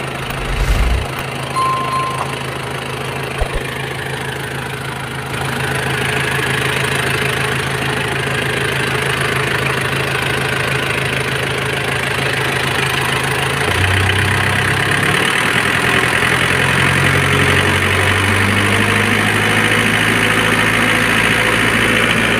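A Nissan Big M pickup truck's engine idles steadily and close up, with a constant low rumble that shifts slightly in pitch partway through, no talking.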